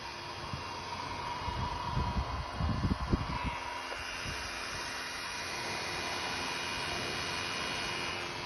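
A biomass cookstove's blower fan runs at its maximum 5,600 rpm, giving a steady, moderately loud whirring roar throughout, with a brief burst of low rumbling thumps near the start.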